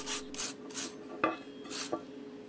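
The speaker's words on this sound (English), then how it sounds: "Now we can clean the weld up with a wire brush." A wire brush scrubs a weld on a steel pipe used as a garden fork handle, making several short rasping strokes with a couple of sharp metallic scrapes between them, close by and fairly quiet.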